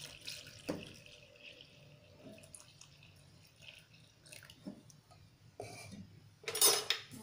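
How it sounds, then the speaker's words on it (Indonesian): Water pours and trickles into a pot while making pudding, a faint splashing with light clinks of dishes and utensils and a louder splash near the end, no voices. "kita taruh airnya ke dalam pancinya"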